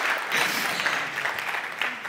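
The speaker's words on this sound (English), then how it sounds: "Big round of applause." An audience at a VR award show claps, a moderately loud patter of many hands that rises and falls unevenly and continues from start to finish.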